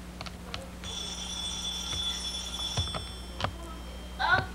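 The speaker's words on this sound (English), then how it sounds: "I heard the phone though." A telephone rings in a home in 1991, a sustained high electronic ring lasting a couple of seconds, heard at moderate distance over room noise with a few clicks and knocks around it.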